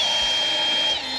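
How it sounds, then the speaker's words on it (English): A power drill whines steadily and loudly up close while lapping an engine valve on a BMW E36 engine, a continuous high-pitched run with a slight drop near the end and no talking. "You're gonna turn the drill on,"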